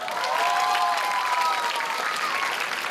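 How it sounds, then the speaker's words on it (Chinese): A live guitar-lesson audience claps together, a dense steady patter of many hands that holds loud for a few seconds before thinning slightly. "听得懂的拍手一下好不好？"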